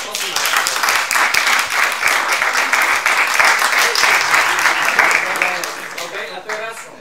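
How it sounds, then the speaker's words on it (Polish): Sustained applause from an audience at a milonga tango dance in a club, crowd clapping for Oskar Maderna, dense and steady before thinning out near the end, with voices mixed in. "Będą brawa dla Maderny i brawa dla Warenki."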